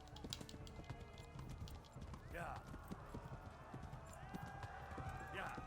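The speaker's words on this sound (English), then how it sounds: "It literally doesn't feel like the horse is running." Rapid galloping horse hoofbeats clatter close by in a steady rhythm, joined by a couple of brief horse whinnies, over a busy background of game sounds from Kingdom Come: Deliverance.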